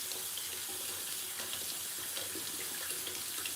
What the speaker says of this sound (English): Alright, I'm just gonna rinse in the soba